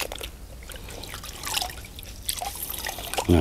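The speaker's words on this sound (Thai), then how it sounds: "อันนี้ผมแค่เอาจุ่มๆแล้วก็บีบๆ" A bag of fresh Trichoderma fungus is dipped and squeezed in a water bucket, giving soft wet drips, trickles and sloshing, close and fairly quiet, with a sharper splash at the end.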